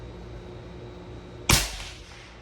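A single sharp rifle shot fired at a 600-yard target, a loud crack with a brief decaying tail over steady outdoor background noise.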